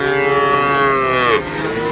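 A three-month-old Simmental calf gives one long, loud, close moo that falls in pitch near the end, with no talking.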